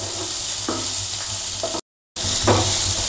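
Chopped onions fry in oil in a kadhai, a close, steady sizzle broken by scraping stirring strokes, with a short moment of total silence midway before the sizzling resumes.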